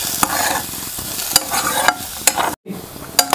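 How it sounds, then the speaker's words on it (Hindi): Carrots and radish stir-roasting in a hot pan, with steady sizzling and repeated spatula scrapes and clinks against the metal, up close, briefly cutting out near the end. "ये गाजर और मूली जो है ये अच्छे से भून चुकी है।"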